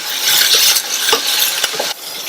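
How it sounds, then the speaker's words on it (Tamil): Onions sautéing in oil in a pan for a South Indian vegetarian lunch, a bright, close sizzle broken by several scraping stirs of a spoon against the pan, with no one speaking. "அது வரையும் எண்ணெயிலேயே வதக்கிக்கலாம்."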